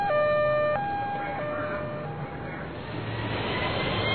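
A siren wails in stepped, sustained tones, shifting pitch every second or so over a steady rumbling background, fairly loud and close.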